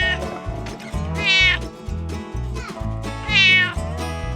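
A cat on an eco-farm with goats meows twice, with loud, drawn-out, rising cries about two seconds apart over steady low background rumble, close to the listener.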